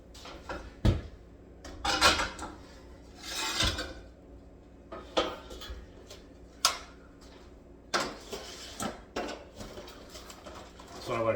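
Pans being cleaned in a home kitchen: irregular clatters, scrapes and metallic knocks of cookware spaced across several seconds, fairly close, with no voices heard.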